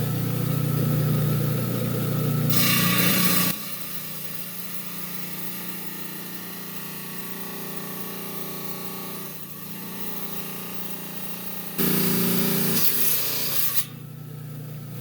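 A power rock saw grinds steadily through a hard rock to split it down the middle, a continuous rasping hum with louder harsher cutting passes near the start and end.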